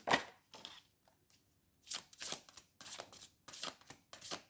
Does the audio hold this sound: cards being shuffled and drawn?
yes